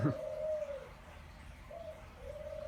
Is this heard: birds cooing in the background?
yes